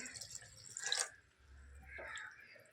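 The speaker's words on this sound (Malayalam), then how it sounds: "വെള്ളം ചേർത്ത് കൊടുക്കുന്നുണ്ടേ ഞാൻ" Water trickles and splashes into a pan of tuna curry with coconut, a brief pouring burst followed by softer dripping and a low background hum.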